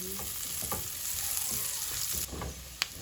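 Garlic and onion frying in a pan give off a steady close sizzle with light stirring scrapes and a sharp clink near the end, no voices.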